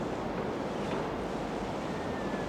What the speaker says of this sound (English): I never seen the Atlantic Ocean till just now.